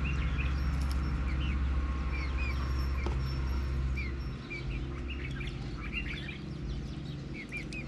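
A songbird sings repeated short chirps and warbles in the morning in a village, over a steady low rumble of background noise, fairly clear and close.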